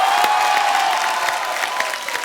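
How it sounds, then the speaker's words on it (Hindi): Studio audience on an Indian TV comedy talk show applauds steadily and loudly as a guest actor is welcomed, a dense continuous clapping with no voices over it. "आप सबकी जोरदार तालियों के बीच please welcome mister Nawazuddin Siddiqui"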